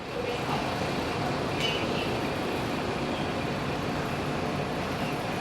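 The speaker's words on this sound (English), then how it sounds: "And there goes my train." A rail train pulls away from Pasar Seni station in Kuala Lumpur with a steady broadband rumble and rolling noise at close range, continuous and fairly even in level, with no voices.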